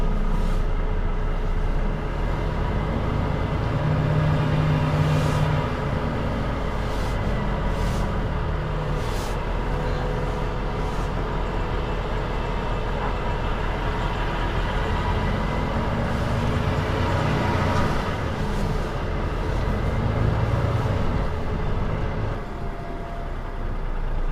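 A Volvo FH truck pulls away and drives on, its steady low engine drone and road rumble continuous and fairly loud throughout, with occasional brief higher hisses on top and no talking.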